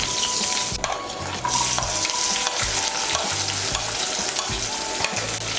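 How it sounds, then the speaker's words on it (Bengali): Finely chopped medium onion frying in oil for a masoor dal dish, a loud continuous sizzle with rhythmic spatula scraping and stirring in the pan, no talk. "পেঁয়াজ কুচিটাকে লাল করে ভেজে নেব"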